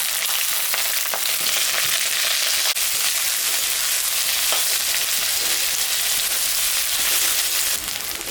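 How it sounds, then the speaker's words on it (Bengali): Onions, bay leaves and green chillies frying in hot oil with whole garam masala, a steady dense sizzle with light crackles and occasional stirring, loud and close, running almost unbroken without any voice. "পেঁয়াজটা ভাজা ভাজা হয়ে গেছে"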